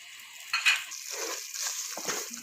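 Spoon stirring besan barfi mixture in a pan with light sizzling, soft scraping strokes and a few faint clinks, close and quiet with no talk.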